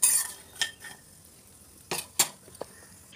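Cashews, almonds and walnuts roast in ghee in a kadhai, with a few sharp metal spoon scrapes and clinks against the pan over a faint, quiet background.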